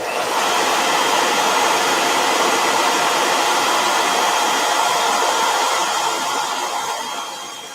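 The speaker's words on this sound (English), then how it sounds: "All right, let me hit this with a blow dryer," A blow dryer runs steadily at close range on a painted Toadie figure from Mad Max, a loud continuous broadband whoosh that lasts the whole time and fades slightly at the end, with no talking.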